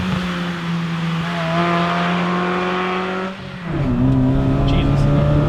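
A car engine and exhaust rev steadily with a raspy drone, dip briefly, then climb again to a louder, higher pitch, heard up close.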